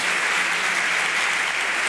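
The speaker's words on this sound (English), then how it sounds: "please give them a round of applause" A debate audience claps steadily in a dense, loud burst of applause that carries evenly from start to finish, with no talking over it.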